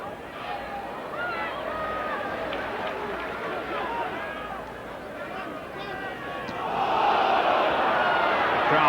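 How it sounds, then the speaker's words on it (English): A rugby league crowd at the 1998 Challenge Cup fourth-round match between Leeds and Castleford roars continuously, the massed shouting surging louder near the end while a commentator talks over it. "Crowd shouting for a forward pass"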